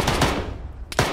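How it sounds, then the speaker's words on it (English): Rapid automatic gunfire in the military video game Arma 3, a quick cluster of sharp shots, a brief pause, then another burst, close and loud with no talking. "Gunfire, it's fine."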